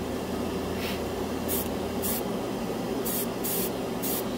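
Bursts of airbrush spray laying Vallejo Mecha Color off-white paint onto a white Gundam scale model, several short hissing passes in a steady rhythm over a constant background hum, close and clear.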